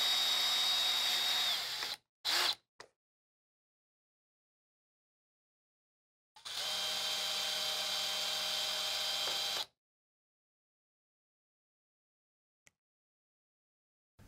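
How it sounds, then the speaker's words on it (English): Power screwdriver backing screws out of the rear foam cover on a Furrion air conditioner condenser: two whirring bursts, a short one and then a longer steady run of about three seconds, separated by silence. "remove the screws on both sides of the rear foam cover"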